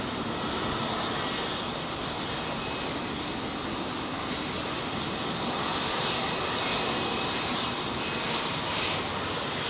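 An Airbus A380 departs close by from London Heathrow's runway 27R, a dense, loud, unbroken jet roar that swells slightly midway and holds steady throughout.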